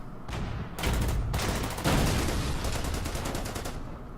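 A Panzer IV tank fires on a BA-20 armored car in the World War II strategy game Order of Battle at Stalingrad: loud, rapid, evenly spaced firing bursts with a booming layer beneath, carrying on throughout.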